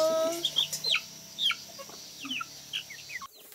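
European-breed chickens, French and English lines, at a Korean farming community, clucking in short scattered calls close by, with a brief voice near the start.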